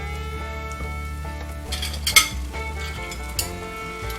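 Food sizzles in a frying pan while a utensil stirs and scrapes continually, with a few metallic clinks against the pan, close and steady, while cooking Romanian cabbage rolls (sarmale).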